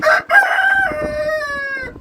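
A rooster crows loudly and close by, one long drawn-out call that rises and then trails off.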